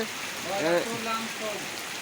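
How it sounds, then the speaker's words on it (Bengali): Heavy rain falls at a market crossing, a steady hissing wash of rain under a person talking throughout. "এই মুহূর্তে ভালো করে দেখানো হচ্ছে কেমন জোরে বৃষ্টি হচ্ছে"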